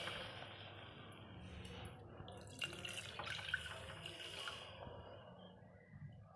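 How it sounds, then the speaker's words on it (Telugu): Water poured from a cup into a pot holding grated jaggery makes a soft, steady trickling and splashing that runs for several seconds, quiet and close. "అదే కప్పు తో 2 కప్పులు వాటర్ వేసుకోవాలి।"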